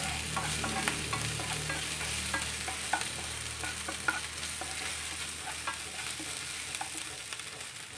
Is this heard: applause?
no